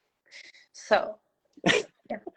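A single sneeze stands out mid-clip, with a person speaking briefly before and after it.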